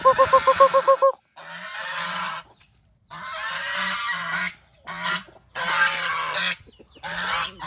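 At a morning chicken feeding, a quick run of short, pulsed clucks gives way to loud, drawn-out, honking squawks from fowl close by, in irregular bursts with brief quiet gaps and no talk.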